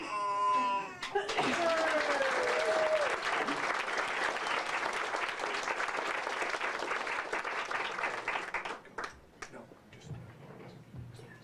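An audience applauds to welcome a candidate for NC Senate District 48, dense clapping sustained for several seconds then thinning out, after a voice at the start.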